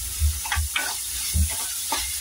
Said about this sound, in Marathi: आपण चांगलं असं परतून घेऊ